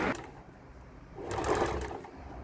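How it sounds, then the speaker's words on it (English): A sewing machine stitches a long fabric tube for a scrunchie-handle drawstring shoulder bag, running a steady seam in two bursts with a brief slowdown between, close and clear with no talk. "we will match the sides and sew it down with a 1 centimeter seam allowance"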